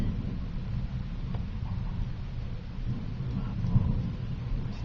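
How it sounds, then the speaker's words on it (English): Thunder rolls through a severe thunderstorm in May 2010 as a continuous, deep, loud rumble that swells and fades slightly, with no voices. "The thunder is just rolling."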